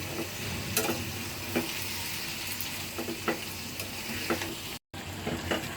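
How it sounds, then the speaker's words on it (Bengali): Tomato chutney sizzles steadily in a pan, a continuous close frying hiss broken by occasional sharp crackles and stirring clicks, with no talking. "আর সাফনের জন্য টমেটো চাটনিটা করতেছি"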